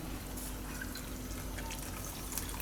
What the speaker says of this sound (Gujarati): એ રીતે તમારે એમાં પાણી નાખવાનું